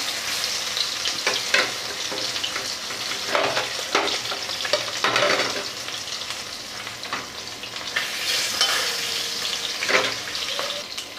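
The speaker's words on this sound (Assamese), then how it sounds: "অকণমান সাৱধানে ভাজিব লাগিব, তেলখিনি চিটিকি আহে" Steady frying sizzle with crackling spatters of hot oil as a large rohu fish fries, stirring now and then, close up and with no one talking.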